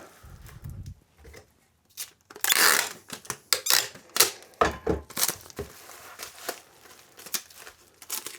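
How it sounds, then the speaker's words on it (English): Items being taped together, with tape pulled and torn off the roll in loud crackling strips and crinkling, thumping handling noises in between, close up and without talk. "I think I'm going to tie these together like this with some tape"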